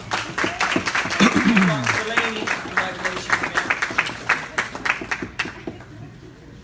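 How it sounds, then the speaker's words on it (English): Applause from a karate class audience for a student named Cole, clapping under a man's speech, louder at first, then thinning out and fading away before the end. "Let's give Cole a round of applause."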